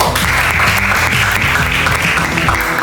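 At a school assembly, students clap together in a dense, steady burst of applause that fills the whole stretch at high volume.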